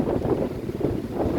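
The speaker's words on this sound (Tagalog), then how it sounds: "Ang lakas kasi ng hangin sa kanang alon guys." Strong wind blowing across the sea near the shore where small boats struggle to cross, a loud, continuous gusting roar buffeting the microphone with no voices.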